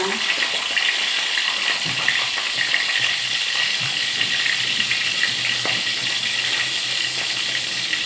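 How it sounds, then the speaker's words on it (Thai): A large Indian mackerel frying in oil in a pan gives off a steady, close sizzle and crackle, with someone speaking softly over the continuous hiss. "ทอดปลาทูมัน ปลาทูมันตัวใหญ่ทอดปลาทูมันกันเลยนะคะ"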